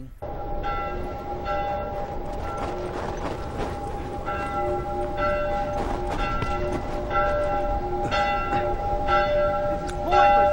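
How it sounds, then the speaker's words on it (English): Bell tolling repeatedly in The Last of Us Part II, a steady series of ringing strikes with lingering metallic tones over low background rumble, no talk during it. "Bell is getting annoying."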